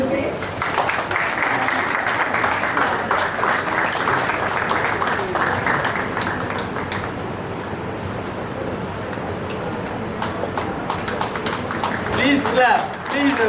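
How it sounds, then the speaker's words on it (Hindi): Applause at a book publishing event fills the room with sustained, dense clapping from an audience, staying steady and loud throughout with a slight swell near the end. "हम भी मैम का एक छोटी सी स्वागत करना चाहते हैं जोरदार तालियों से"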